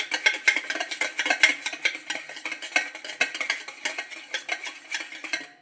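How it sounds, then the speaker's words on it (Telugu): A whisk beats sour curd in a bowl, producing quick, steady clicking and scraping strokes that repeat close up for the whole stretch with no talking. "మనం దాన్ని విస్కర్తో బీట్ చేసుకోవాలండి."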